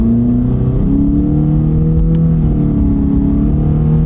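An older car with a CVT transmission accelerates, its engine droning steadily close by while the pitch climbs smoothly in long glides instead of stepping through gear shifts.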